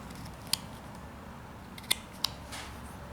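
A knife cuts deep into a small wooden sailor figure being whittled from a block of wood, producing three sharp, brief clicks and snaps spread over a steady low background hiss, with no speech.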